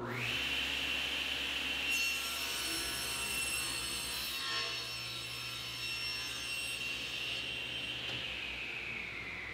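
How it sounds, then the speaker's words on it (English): A table saw rips strips of poplar for bookcase molding, its blade whining steadily and loudly through the cut for several seconds, with the motor's hum running beneath and no voices. "To get started on the molding, I'll rip strips of poplar at 1 1/4 inches."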